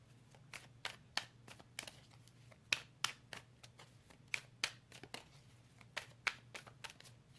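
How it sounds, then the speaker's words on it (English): A tarot card deck is shuffled softly and close by, with a quick run of crisp riffling snaps and taps against a faint low hum. "I want to make sure all of my cards are in the upright when I begin"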